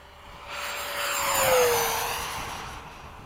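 An F-15 jet streaks low over the runway, its roar swelling from a distant whine to a loud peak at mid-pass and then fading away, with no voices.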